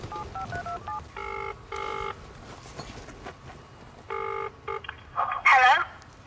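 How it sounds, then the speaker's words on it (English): A telephone dials out with a series of short, clear touch-tone beeps in irregular bursts, followed by a brief warbling tone, heard close up against a quiet background. "Freddie, and that is make the phone call to Billy and set him up."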